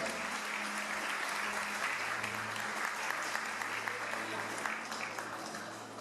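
Church congregation at an Assembly of God service claps together in praise, a steady, full wash of applause filling the room for six seconds, with a low sustained tone and faint murmuring voices underneath.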